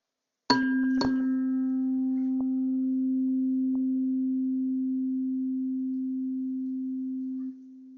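A steady low-frequency tone from a physics lecture demonstration sounds continuously for about seven seconds after two brief clicks at the start, then cuts off abruptly.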